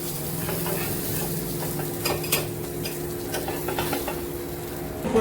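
Fish head and tail pieces fry in a pan for fish curry, giving a steady close sizzle broken by stirring scrapes and occasional light clinks.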